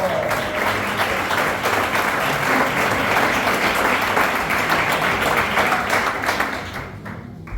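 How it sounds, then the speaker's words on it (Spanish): Loud, dense applause from a church congregation, steady rapid clapping that fills the space for several seconds before tapering off near the end. "Dale un aplauso al Señor."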